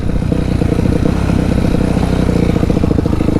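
A dirt bike engine runs loud and close in a backyard, a steady throbbing rumble with rapid pulsing and no pauses throughout.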